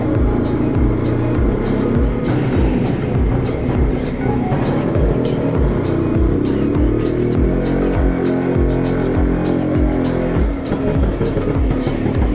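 A Rajdut 175 motorcycle riding off on a Sunday morning bike rally, its engine running steadily close by with a rhythmic pulsing drone alongside other motorcycles, loud and continuous with a slight shift in pitch midway.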